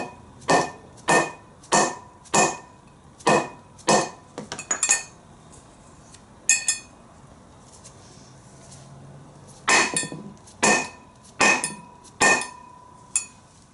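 A hammer strikes a wheel bearing race into the rear hub of a 1998 VW Jetta TDI, giving sharp metallic clinks at a steady pace, a few clustered blows, a pause, then another run of strikes, close by.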